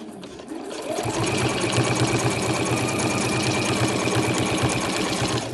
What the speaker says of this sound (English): I'm able to sew this with a normal presser foot